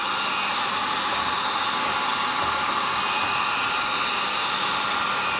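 A heat gun blows steadily, a constant loud airy roar warming a graphics decal on a 2022 Husqvarna FE 450 motorcycle to activate its glue.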